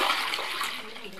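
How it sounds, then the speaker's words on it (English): Water rushes and splashes steadily as a large water bag is filled while drawing water, a close, noisy hiss with no pauses. "You just have to fetch enough water."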